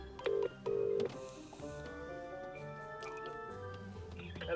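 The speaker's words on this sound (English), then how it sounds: "Call the number then. Let's see what happens. Put them on speakerphone." Two short touch-tone dialing bursts from a car speakerphone, then a steady, fairly quiet hum of tones as the phone call connects and waits.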